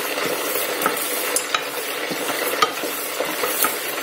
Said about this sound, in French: je suis en train de torréfier dans nos épices